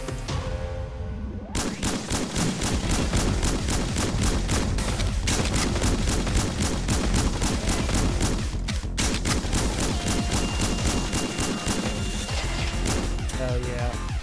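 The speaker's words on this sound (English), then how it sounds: "Hell yeah, shotguns where it's at" Rapid repeated shotgun blasts in the video game Snezhinka: Sentinel Girls 2, a dense barrage of sharp cracks with crashes mixed in, continuing almost without pause.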